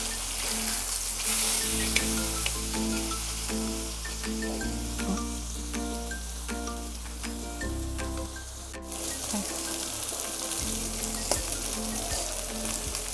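Kafri pomfret fish frying in a pan, a steady continuous sizzle of hot oil heard close up, with a low background hum and no talking.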